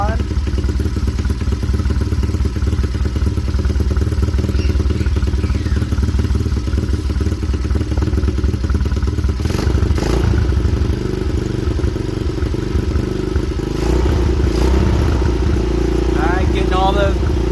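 A small engine runs loud and close with the choke on, rattling and clattering in an uneven idle that roughens partway through. A voice comes through at points.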